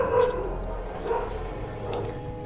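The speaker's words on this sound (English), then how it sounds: "Look at that dog barking." A dog barks a few times in short yips somewhere behind game sounds, amid the clatter of a co-op tower-defense game, with the barks fairly faint and partly buried.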